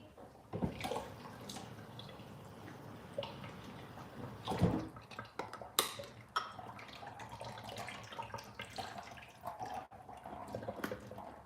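Tap water running and splashing while a turkey is rinsed in a sink before deep frying, an uneven close trickle with drips and a few sharper splashes, no talking.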